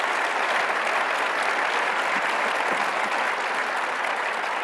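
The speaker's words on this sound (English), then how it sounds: "Please give a round of applause to our mayor and our industry experts." Loud, sustained applause from the crowd at a city's State of the City 2020 event, honoring the mayor and industry experts. The clapping is thick and unbroken, staying at full volume the whole time.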